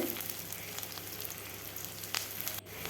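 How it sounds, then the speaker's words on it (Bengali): Onions frying in hot oil with green chilies, a steady close sizzle and crackle with occasional stirring, no voices. "পেঁয়াজ দিয়ে লাল লাল করে ভেজে নেব"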